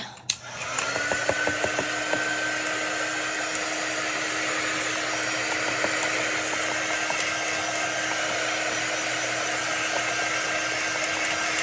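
A hair dryer blows steadily to dry chalk paste on a crafting project, starting with a click and then running as a constant, fairly loud whirring hiss with a faint tonal hum, alone throughout.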